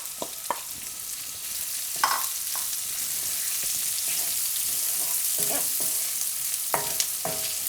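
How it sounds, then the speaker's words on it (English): Onion sizzling in a hot pan for an aubergine curry, a constant bright crackle with intermittent stirring knocks and scrapes, close and fairly loud. "And then we're going to put in onion."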